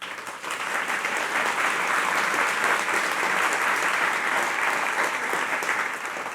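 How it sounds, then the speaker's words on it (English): Sustained applause from a conference audience honoring a panel of speakers at an Earth observation symposium on small satellites, dense steady clapping filling the room for over six seconds without pause. "A round of applause for our panelists."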